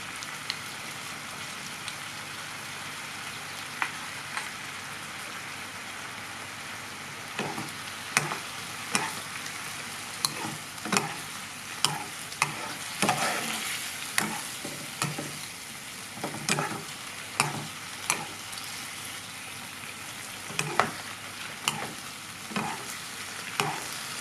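Pork cooking in a pan with palm sugar and fish sauce, stirred with a utensil: steady soft sizzling under repeated scraping and clacking strokes that get more frequent in the second half, close by, with no talking.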